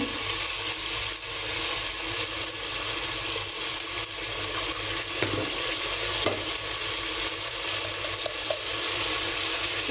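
Spices sautéing in a pan for khichuri made with polao rice and meat, a steady close sizzle with occasional clinks and scrapes of stirring, no talk.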